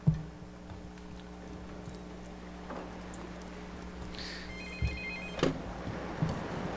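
A telephone rings faintly in the background of a room, with a few tonal bursts over steady low hum, and no one talks over it.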